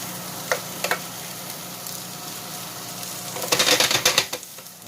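Green onions hit hot oil in a pan: a low steady sizzle with a few sharp crackles early on, then a louder burst of spitting and popping near the end.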